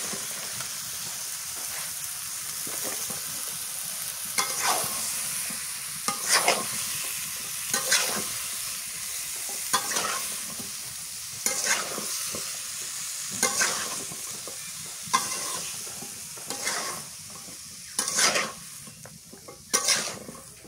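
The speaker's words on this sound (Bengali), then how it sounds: "মশলা কষানো হয়েছে, লাউ দিয়ে দিয়ে দেব" Bottle gourd stir-fried in a pan of cooked spice paste with turmeric and salt, a continuous sizzle broken by regular scraping strokes of a spatula against the pan, close and steady, with no talking.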